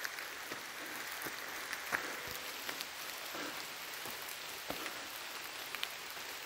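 Steady rain falls outdoors on a Saturday morning, a dense even patter with scattered louder drops hitting nearby surfaces, continuous throughout and with no voices.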